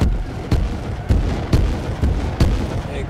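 MLRS rocket explosions in the video game Rust, a rapid series of five heavy booming blasts about half a second apart, loud and close over a rumbling low background.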